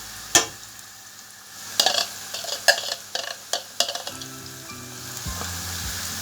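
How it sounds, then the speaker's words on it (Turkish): Steady sizzling of coarsely chopped garlic frying in a pan, punctuated by several sharp scrapes and clacks as a utensil stirs it, close by. "Biraz da sarımsağım kavrulacak"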